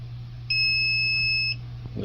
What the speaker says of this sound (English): It'll beep at you when it's done.